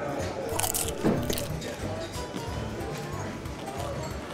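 A crisp, crunchy bread roll topped with balsamic vinegar and filled with ham is bitten and chewed aboard a first-class flight, close crunches and chewing under steady cabin hum, while a person talks.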